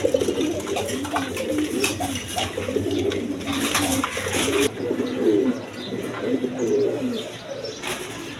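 Lakka and Gorra breed pigeons coo continuously at close range, a layered, murmuring chorus of low calls with faint chirps mixed in.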